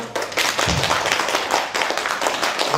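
An audience at a Korean presentation event breaks into brisk, continuous applause, a dense close patter of many hands lasting a few seconds without pause.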